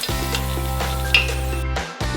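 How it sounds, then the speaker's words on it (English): A batter-coated corn dog sizzles in a deep fryer, a steady crackling hiss riding over a strong, constant electrical hum, with a brief clatter partway through and a short cut near the end. "And we tip it into a deep fryer."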